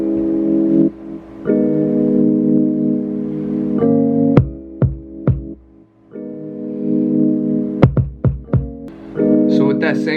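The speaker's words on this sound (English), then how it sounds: "for the drums, we're going to start off with the kick" A punchy kick drum plays a West Coast beat pattern in short bursts of deep thumps over sustained synth chords that stop and restart.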